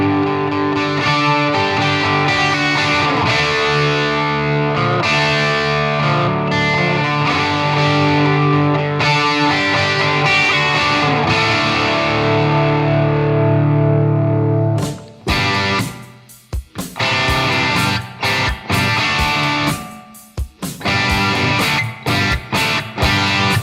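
Loud, saturated electric guitar through a Marshall JMP Master Volume amp, sustained distorted chords ringing for about fifteen seconds, then choppier, stop-start riffing with brief gaps.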